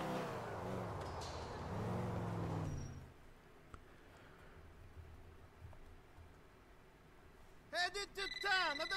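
A car in Grand Theft Auto IV revs with a loud, rising and falling engine note for a couple of seconds, then settles to a faint idle hum under quiet background sounds, with a voice briefly heard near the end.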